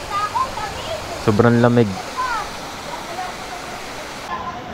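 Kakawayan Falls in Infanta, Quezon pours in a steady, broad rush of water that runs without a break, while a person talks briefly over it partway through.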